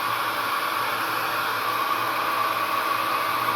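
A hair dryer blows steadily on a watercolor painting of boats and water reflections, a close, continuous airy whoosh with a constant motor hum that holds unchanged throughout.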